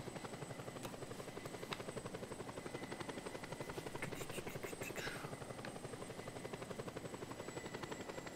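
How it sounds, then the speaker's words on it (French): A helicopter flying in the video game Just Cause 2 gives off a continuous, rhythmic rotor thump with a steady whine above it, heard alone throughout. "J'en ai marre d'être de travers à chaque fois que je pilote un hélico"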